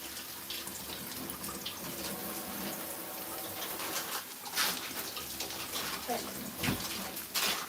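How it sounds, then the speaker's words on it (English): Onions are rinsed under a running kitchen tap. Water pours steadily with shifting splashes as the onions are moved through the stream, close by, with faint background sounds. "I need to wash this a little bit of quick rinse."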